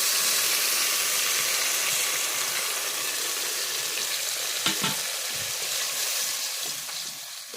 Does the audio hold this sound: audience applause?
no